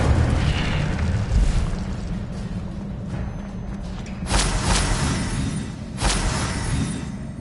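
An Incendio fire spell in Hogwarts Legacy bursts twice in loud, close whooshing blasts over a constant low rumble of background noise.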